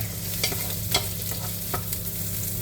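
Onions frying in a pan for a chicken tagine are stirred, with a steady sizzle and a few sharp utensil scrapes at irregular intervals under a constant low hum.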